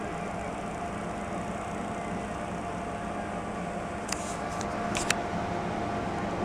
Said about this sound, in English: my air conditioner thing.